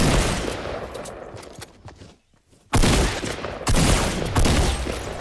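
Suppressed gunfire in the Fortnite video game: dense, loud bursts of rapid shots that break off for a brief silence, then resume in two more sustained volleys, with no talk over them.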